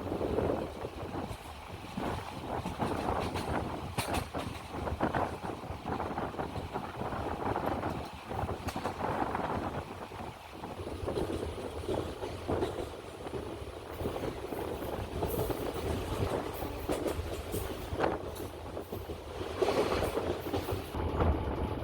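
A train runs through Kuzhithurai West railway station in Tamil Nadu on the way to Kanniyakumari without stopping, giving a steady, loud rumble and rattle of wheels and carriages with rushing air throughout.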